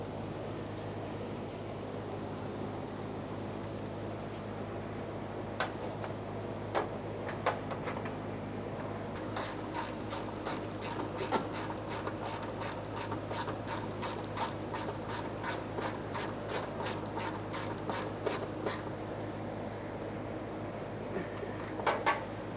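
A 12mm ratchet tightens an emergency brake cable mounting bolt under a 1994-1997 Honda Accord, with a long run of quick, regular, faint clicks after some scattered handling noise.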